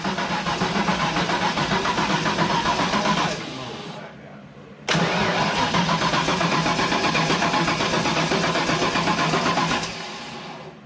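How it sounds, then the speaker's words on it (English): A turbo car engine cranks slowly on a weak battery in a long, steady, labored churning run that stops briefly, then a second long crank, close and loud. "Slow cranking a little bit. I think battery a little weak."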